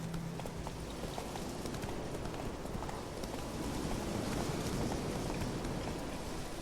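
Steady hoofbeats of the horse Roach running in The Witcher 3, a continuous drumming clip-clop carried under a dense layer of game ambience with no pauses.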